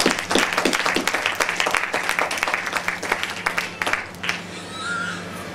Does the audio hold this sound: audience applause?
yes